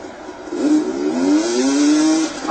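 A motocross bike engine in the video game MX vs ATV Untamed revs and climbs in pitch, whining loudly and continuously over a couple of seconds.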